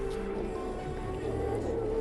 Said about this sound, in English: I could hear the throaty rumble of the Beaver's 450 horsepower radial engine